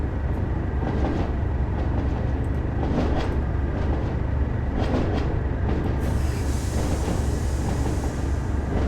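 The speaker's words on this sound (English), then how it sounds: "the sound set on the old bogies are pretty decent" A Class 37 diesel locomotive rolls on old bogies in Train Sim World, a steady loud rumble with rhythmic clickety-clack of wheels over rail joints and a brighter hiss toward the end.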